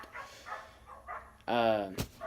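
A dog barks once, loud and close, after a stretch of someone talking, followed by a sharp clatter and more speech.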